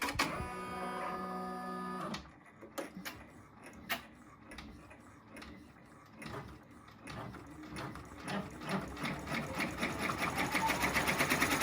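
Embroidery machine stitching an in-the-hoop zipper bag, a steady mechanical hum that gives way to rhythmic clicking and ticking needle strokes, speeding into a dense regular chatter toward the end.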